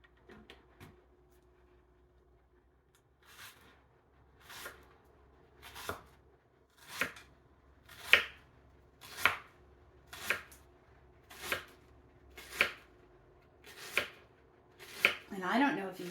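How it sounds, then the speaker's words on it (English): A knife slicing onion thinly on a board, a dozen crisp evenly spaced cuts that grow steadily louder and quicken slightly, close up in a quiet kitchen. "And you just slice your onions"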